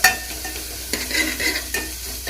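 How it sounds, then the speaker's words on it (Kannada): Onion and garlic sautéing in a pan for neer saaru, a steady close sizzle with a few stirring scrapes, and no voices. "ಸ್ವಲ್ಪ ಚೆನ್ನಾಗಿ ಬಾಡಿಸ್ಕೊಳ್ಳಿ"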